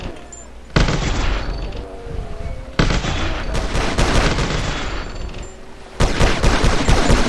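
Blaster gunfire in a GTA Ant-Man mod: dense, loud volleys of shots come in three long stretches, each starting abruptly, over constant game rumble and with no voices.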